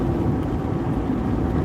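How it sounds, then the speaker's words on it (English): A vehicle races down a dirt track, giving a loud, steady, rumbling roar that holds level throughout with no talking. "there's somebody racing down the dirt track"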